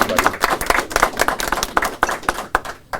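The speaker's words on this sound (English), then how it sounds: "want to give them one more round of applause" A small audience claps for city employees honored as Employees of the Week at an Albuquerque mayor's news conference, distinct close hand claps in an uneven patter that thins out toward the end.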